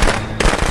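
Gunfire in the horror video game Friday the 13th: The Game, a loud burst of dense, cracking shots that briefly thins and then resumes, close and continuous through the short moment.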